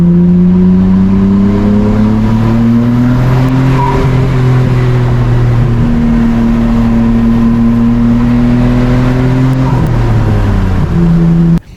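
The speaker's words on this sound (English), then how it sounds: "Whenever you're shifting, you could actually hear the OEM blow-off valve actually recirculate" Nissan Skyline R33 GT-R engine revving hard through several gear changes, its steady rising and falling drone broken at each shift by the OEM blow-off valve recirculating. Loud, close and continuous, with no talking.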